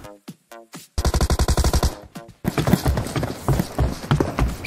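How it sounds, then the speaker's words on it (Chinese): Gunfire from a boss in a video game: a rapid burst of about a dozen evenly spaced shots, then a longer, denser stretch of loud shooting with other game noises after a short pause. "这 boss 有枪声，等消停了再摸上去"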